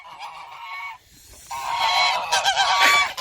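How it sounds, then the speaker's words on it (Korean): Loud, close goose honking on Ganghwa in midwinter: a steady run of calls, a short dip, then rising overlapping honks from more than one bird. "거위가 또 나를 이렇게 또 반기고 있습니다."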